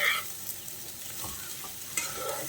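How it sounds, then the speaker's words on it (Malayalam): A spoon stirs and scrapes radish thoran in a frying pan over a low flame, with soft intermittent scrapes over a faint, steady sizzle. "ഇനി എല്ലാം കൂടി നന്നായിട്ടൊന്ന് മിക്സ് ചെയ്ത് കൊടുക്കാം."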